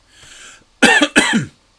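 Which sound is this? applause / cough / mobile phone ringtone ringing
cough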